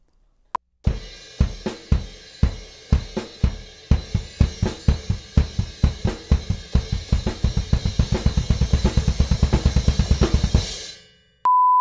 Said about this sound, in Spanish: vas a tocar el double kick o el doble bombo